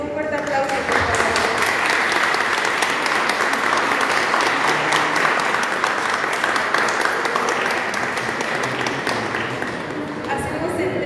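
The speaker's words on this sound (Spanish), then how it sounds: "solicito un fuerte aplauso, por favor." Sustained applause from an audience at a talk fills the room, steady dense clapping lasting throughout, loud and close.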